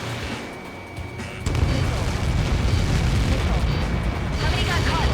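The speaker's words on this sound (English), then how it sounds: "How many got caught in that explosion?" A massive explosion from the Helios projectile impact in the Ace Combat 7 aerial combat game, heard as a sudden loud rumbling boom that swells and then holds as a sustained, dense roar.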